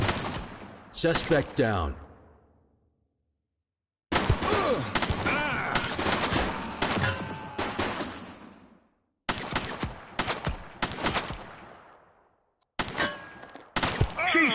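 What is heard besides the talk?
gunshots in the video game The Precinct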